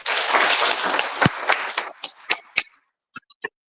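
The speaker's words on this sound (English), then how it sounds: "Let's give ourselves a round of applause." A conference audience at Mining Indaba in Cape Town gives a round of applause, a loud burst of clapping that thins into a few scattered, separate claps before fading out.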